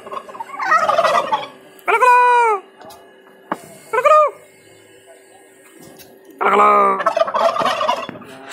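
A white turkey at Raiganj Kulik Bird Sanctuary gobbles in several loud, close, rattling bursts, with chatter from people nearby between the calls.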